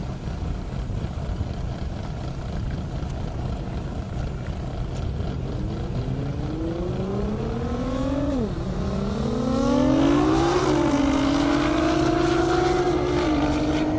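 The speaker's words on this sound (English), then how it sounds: "Tamsin's going to light off in that GTR" Nissan GT-R launching down an airport drag strip, its engine rising in pitch through sharp gear shifts over a steady low rumble, loud and close.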